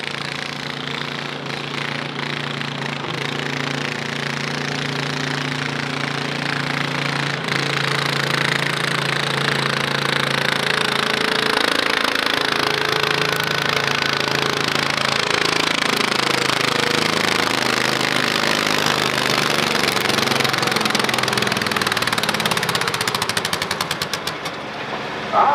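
A 16 horsepower garden tractor engine in a youth-class tractor pull, a loud, continuous, rough mechanical roar with a hammering, knocking pulse that holds strong and close for the whole run while the pitch shifts under load.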